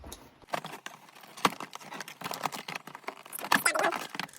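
An Amazon package box being cut open with a blade, giving a run of close scratchy tearing and scraping strokes, rustling cardboard and packing, moderately loud with no talk.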